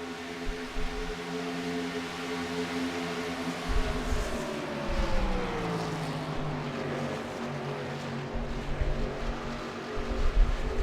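Race cars at speed on a short track during a late-model stock car event, engines droning steadily as they run close together, with a rising and falling pitch as cars pass, fairly loud throughout.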